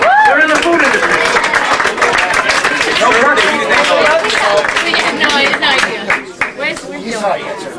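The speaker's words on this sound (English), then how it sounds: "Nice round of applause." An audience at a sports quiz cheers and applauds a team, clapping steadily amid lively crowd chatter and voices, then tapering off toward the end.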